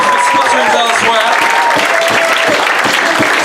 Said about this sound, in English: So can we give an applause generally to these two tables with spotterings elsewhere?